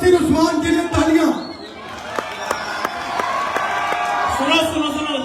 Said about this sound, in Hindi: मुदस्सिर उस्मान के लिए तालियां।